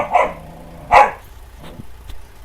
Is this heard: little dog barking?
yes